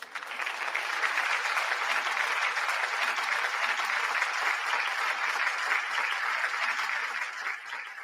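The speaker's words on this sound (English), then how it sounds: "I want y'all to give KD a round of applause" A steady round of applause for KD from an audience, dense and sustained throughout, fading slightly at the very end.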